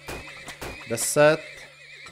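A horse in the oil-drilling game Turmoil gives a short, loud, bright whinny in the middle of the clip, with hoof clip-clops around it and someone talking before it.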